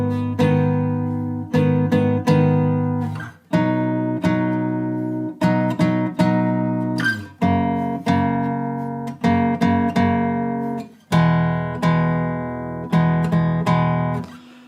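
Acoustic guitar playing the chorus of a song, a steady run of strummed chords with clear rhythmic accents, played close and alone without talk.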